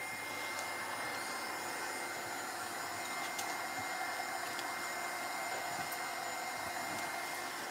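A hair dryer blows steadily for the whole stretch, drying a mixed-media artwork, its motor and airflow making a constant close whoosh with no talk over it.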